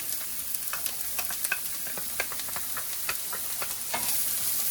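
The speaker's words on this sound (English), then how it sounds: "now I'm going to add my carrots and my celery" Carrots and celery sweat in a pan for Italian rice balls, giving a soft, steady sizzle with scattered light crackles and pops, fairly quiet and with no talking.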